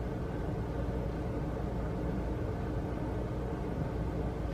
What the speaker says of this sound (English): if you hear that noise in the background, it's the window and the heat